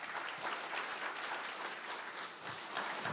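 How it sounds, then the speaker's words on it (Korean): At a science and technology conference dinner, an audience gives a welcoming round of applause for an incoming lawmaker, steady dense clapping heard alone, soft and somewhat distant. "그럼 차지우 의원님을 큰 박수로 모시겠습니다."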